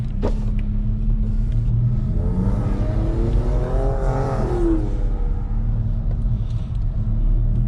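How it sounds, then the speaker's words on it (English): A loud motor vehicle engine roars past up close, its pitch rising and then falling away over a steady low rumble. "That truck sounded rowdy."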